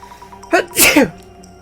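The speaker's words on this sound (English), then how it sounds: "I just sneezed." One close, loud human sneeze, a sharp intake followed by an explosive burst, standing alone against faint background hum.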